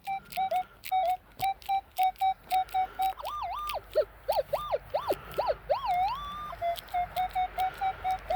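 A metal detector emits repeated short beeping tones, then a run of warbling, swooping signal tones over a buried target outdoors in the White Mountains, before the steady beeps return, fairly quiet and close.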